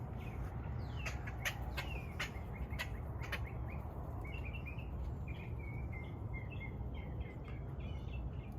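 Birds chirp and call in short, sharp bursts and then trill more softly on a tropical fruit farm in Florida, heard faintly from a distance over a steady outdoor hum.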